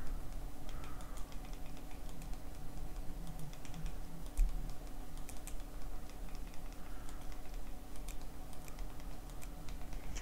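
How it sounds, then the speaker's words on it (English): Faint, quiet tapping of keys while a Wi-Fi password is entered, heard as scattered soft clicks in an irregular rhythm over a low steady room hum. "I'm going to type in my password here."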